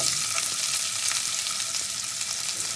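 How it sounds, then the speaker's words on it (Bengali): Chopped onion fries in the oil left over from frying potatoes, giving a steady, dense sizzling hiss close to the pan. The sound is even and unbroken, with no talking. "আমি যেটুকু তেলে আলু ভাজলাম ওই তেলেই আমি পেঁয়াজটা দিয়ে দিলাম"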